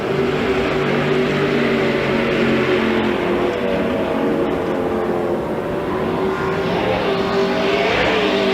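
Pro Lite race trucks roaring around a dirt short course track at a fairgrounds, a dense, continuous engine howl from several trucks with pitch swells as they pass, loud and unbroken, with no voices.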